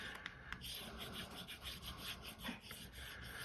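A knife blade carves into a wooden dowel with steady, quiet rubbing and rasping strokes, a continuous scraping texture with a few brief scratchy accents and no talking.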